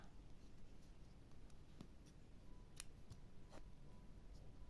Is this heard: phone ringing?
no